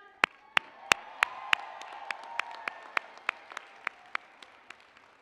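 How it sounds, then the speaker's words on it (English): A commencement audience claps in a slow, steady rhythm, with sharp individual claps landing about three times a second over a soft crowd murmur that tapers off toward the end. "give them a big round of applause"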